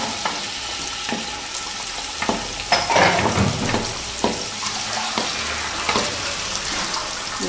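Onion hits hot oil in a pan for mocotó broth and fries with a loud close sizzle, a burst of crackling around the middle, and several sharp spoon strikes as it is stirred, with no talking.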